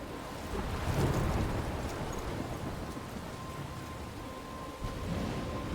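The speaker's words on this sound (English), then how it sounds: "I'm trapped in a storm?" Thunderstorm in the video game Life is Strange: steady heavy rain hiss with low rumbling thunder swelling near the start and again toward the end, continuous and fairly loud, with no voices.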